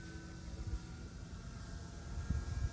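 A BlitzRCWorks Cessna 182 RC trainer plane on a 3-cell battery flies at a distance, a faint steady motor drone with gusty low rumble and no talking.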